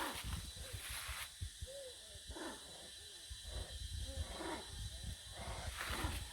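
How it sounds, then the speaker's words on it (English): Monkeys call with hooting cries around a jungle hut near Cheow Lan Lake in Thailand, the calls coming in repeated bursts over dense forest ambience at a moderate distance. "We hear monkeys, so they must be around."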